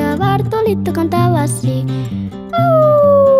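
A voice sings a short line over music in a Spanish children's song, then lets out a long, falling howl imitating a wolf.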